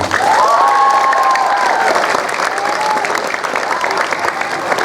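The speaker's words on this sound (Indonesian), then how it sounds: "Tepuk tangan untuk santri." A crowd claps loudly and steadily, with some cheering and a few shouts rising over the applause.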